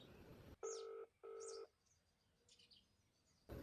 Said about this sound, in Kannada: ಈಗ ರಿಂಗ್ ಆಗತೈತೆ ನೋಡ್ರಿ